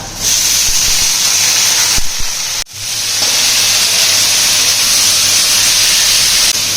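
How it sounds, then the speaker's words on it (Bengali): Banana flower hits a hot pan already holding fried potatoes, raising a loud, steady hiss of sizzling oil that drops off abruptly for a moment and then surges back just as strong. "এখন দিয়ে দেবো মোচা"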